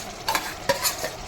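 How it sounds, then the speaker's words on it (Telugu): Ground masala frying in hot oil for mutton curry is stirred in a pan, giving a soft sizzle with a few scraping stirs, close and fairly quiet. "ఆయిల్ హీట్ ఎక్కాలి. ఆ తర్వాత మసాలా వేసుకున్నాను."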